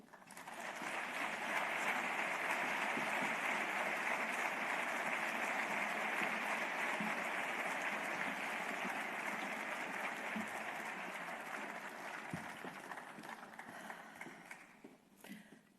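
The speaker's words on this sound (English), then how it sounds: "Dua Lipa, ladies and gentlemen, please give her another round of applause." Audience applause at an award ceremony swells into a long, steady wash of clapping from a large crowd, heard at a distance, holding level before gradually thinning out toward the end.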